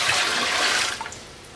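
Warm water poured into a Presto pressure canner pot fitted with its rack, a loud rushing splash for about a second that then tapers off quickly.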